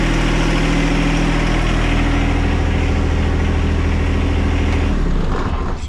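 A John Deere 1025R compact tractor's engine runs steadily up close, a loud continuous low rumble with a fixed idle tone, then cuts off near the end as it is shut down.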